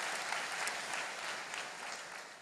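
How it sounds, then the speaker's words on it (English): Congregation applauding during a church worship service, a steady, full round of clapping from a crowd that fills the room without pause. "please give them a round of applause."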